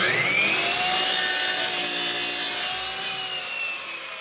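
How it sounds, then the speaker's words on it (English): A chop saw trims a piece of wood with a loud, close, high whine as it cuts, then winds down in pitch near the end, with no speech. "lowers the handle on a chop saw to trim a piece of wood"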